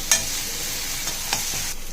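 A single tomato with curry leaves sauteing in a pan for cauliflower and potato rice, a steady, even sizzle with a few faint stirring scrapes over two seconds.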